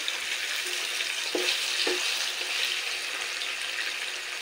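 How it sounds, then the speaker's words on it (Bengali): Paneer pieces fry in a small kadai with a steady, close hiss of oil, broken by a couple of soft clinks as they are stirred. "আমি সমস্ত পনির একসাথে এপিট ওপিট একটু নেড়ে নেব মিনিট দিয়ে।"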